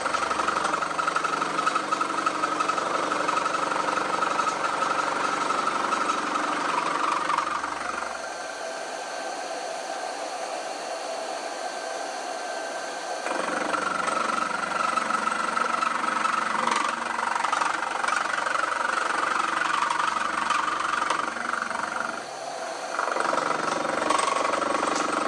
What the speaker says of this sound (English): we're going to go ahead and start machining this thing off and see what we get